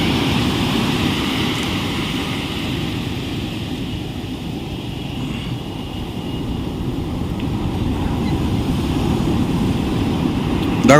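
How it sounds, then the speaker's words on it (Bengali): Ocean waves breaking on the beach at Puri, a steady low rushing wash of surf with wind buffeting the microphone, continuous and fairly loud throughout with a slight swell near the end. "ঢেউ চলে আসছে"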